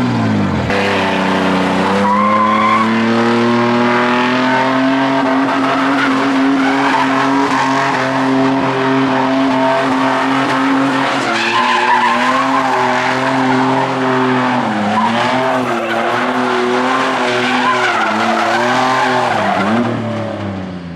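A Ranger vehicle drifts with its tires squealing loudly and continuously over an engine roar that rises and falls for about twenty seconds, close by and without talk.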